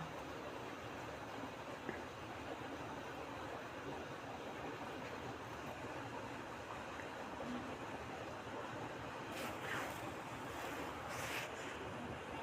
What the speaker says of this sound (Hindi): अब हम इसमें सब्ज़ी डाल देंगे। थोड़ा इसको भून लेना है।